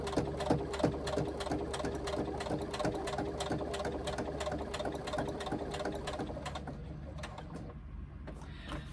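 A sewing machine runs steadily while stitching an X inside a box on a fabric pouch, a close, continuous mechanical whir with rapid needle ticks that eases off near the end.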